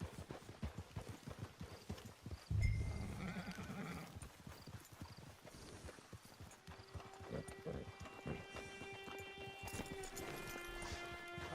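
Horse hooves clip-clop at a steady walking rhythm in Red Dead Redemption 2 while a horse snorts and whinnies briefly, with soft in-game music tones entering later beneath the close, even footfalls.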